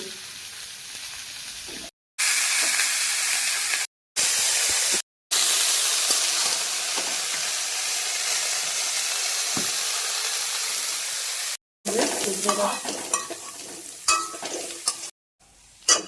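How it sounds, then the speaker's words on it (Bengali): Cabbage sizzles loudly in hot oil in a pan, a steady frying hiss broken by short cuts, with stirring scrapes and clatter from a spatula near the end. "বাঁধাকপিটা ভেজে নেব।"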